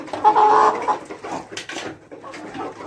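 Broiler parent stock chickens, cocks kept with hens at about one to ten, cluck nearby in a rapid, fairly loud burst with steady poultry-house noise continuing underneath.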